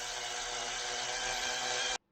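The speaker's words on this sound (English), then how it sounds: "I don't feel too bad about taking a rather heavy drill to it." A heavy drill fitted with cobalt bits grinds steadily into a car steering column at close range, one continuous harsh whir that cuts off abruptly after two seconds.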